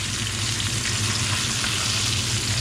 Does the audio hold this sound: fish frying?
yes